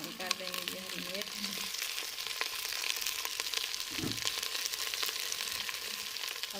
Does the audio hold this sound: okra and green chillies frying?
yes